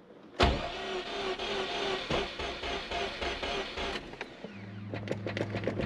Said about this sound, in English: what this thing sounds like when we first crank it over